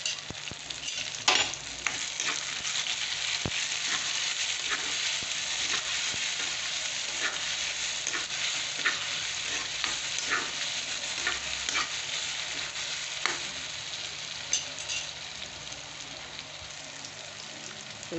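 Ghee sizzling and spitting in a hot pan while frying for a ridge gourd dal, a steady close crackle with occasional stirring scrapes and sharper pops.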